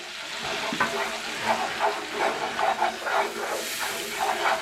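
Flour added to melted butter in a stovetop pan sizzles and hisses steadily, with soft crackling pulses rising and falling close by, no talk over it.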